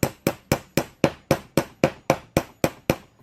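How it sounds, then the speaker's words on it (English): A hammer drives a nail into a rotted piece of barnwood with twelve sharp, evenly spaced blows, close and crisp, each strike quickly decaying before the next. "hammer it down, bam"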